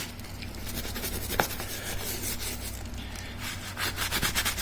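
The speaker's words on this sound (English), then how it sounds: "So just scrub away at the boot." Leather motorcycle boot scrubbed with leather cleaner, giving a steady, close, brisk rubbing and brushing texture with one sharp knock partway through and quicker strokes near the end.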